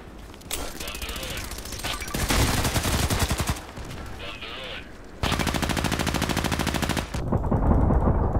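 Gunfire in the online shooter Contract Wars comes as rapid automatic bursts of close, loud shots, broken by short pauses, then a long sustained stream of fire near the end, with brief voice sounds under the shooting.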